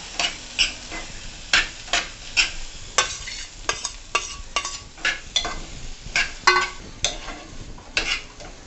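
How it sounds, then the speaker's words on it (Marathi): Boiled potato and peanuts stirred in a pan for a fasting samosa filling, with a steady run of loud, rhythmic spoon scrapes and clinks over a soft frying sizzle, close up. "त्यामध्ये लगेच बटाटा आणि शेंगदाणा घालून घेऊया"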